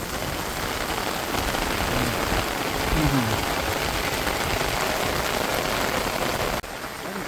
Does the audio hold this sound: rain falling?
yes